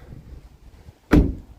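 A door on a 2023 Isuzu D-Max X-Terrain pickup shuts with a single solid, close thud after a moment of quiet.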